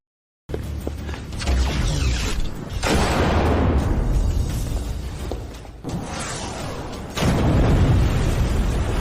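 A bazooka fires and explodes, loud and close: a burst opens a long rumbling roar that fades, then a second heavy blast follows near the end. No one speaks.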